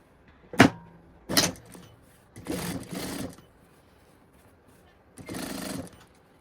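Sewing machine stitching a flap pocket into a waist seam, heard as a sharp clunk followed by three short bursts of machining, each about a second long, with quiet pauses between them.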